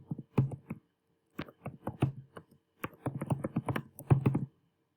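Keys on a computer keyboard are typed in short bursts of quick, close clicks while data goes into a spreadsheet, with brief pauses between the bursts.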